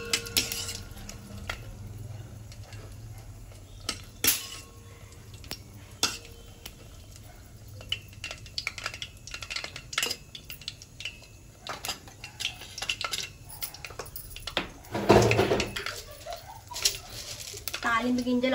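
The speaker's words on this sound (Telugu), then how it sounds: "ఎండుమిరపకాయలు వేసుకొని ఒకసారి కలుపుకోవాలి." Dried red chillies stirred in a pan on a stove for a dal tempering: a spoon clinks and scrapes against the metal in irregular taps and knocks, with a faint sizzle and a voice speaking over it.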